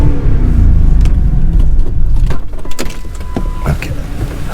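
A Mercury Grand Marquis on the Panther platform with an upgraded dual exhaust and rear cat delete, heard from the cabin as a loud, steady low engine and exhaust rumble, easing slightly partway through.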